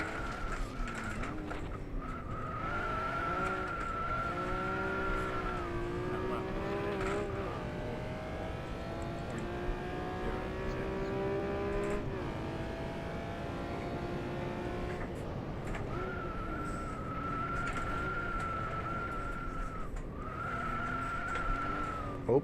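A Honda NSX in the rFactor 2 racing sim on the Top Gear test track, its engine droning steadily while high tires squeal through a botched drift, loud and continuous with no voices.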